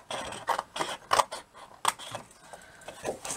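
Cardstock being cut with scissors, a series of crisp, close snips in an uneven rhythm, each with a papery crunch, with no voices.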